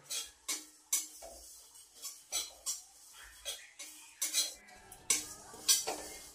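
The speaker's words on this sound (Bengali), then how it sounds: "ওটসটাকে অল্প করে নেড়ে চেড়ে নিলাম এটার মধ্যে" Oats being stirred in a pan for oats khichuri, a spoon scraping and tapping against the metal in an irregular series of sharp clicks and clinks, close and fairly quiet with no talk.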